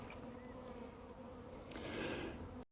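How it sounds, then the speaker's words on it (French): A dense swarm of honeybees circles the hive entrance close by, scouts returning, a continuous humming, buzzing drone with individual bees whining past, cut off abruptly at the end. "toutes les abeilles qui tournent ici en rond, toutes les exploratrices qui reviennent, vont vouloir rentrer dans le trou"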